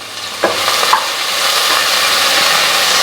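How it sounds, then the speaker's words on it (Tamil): Large onions sautéing in a pan for a white veg pulao, a loud close sizzle with a couple of quick stirring scrapes near the start, then steady frying hiss. "பொறுமையாக வதக்கி கொடுத்துக்கலாம்."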